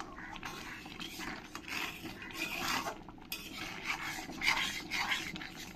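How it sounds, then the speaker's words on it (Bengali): A ladle stirring and mashing soft cooked dal in a pot for a mango sour dal, with repeated scraping and rubbing against the metal in uneven rhythmic strokes, close and moderately loud. "হাতা দিয়ে এরকম করে ভালো করে আমি ডালটাকে ঘুটে নেব।"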